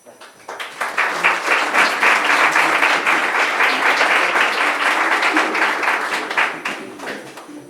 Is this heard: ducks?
no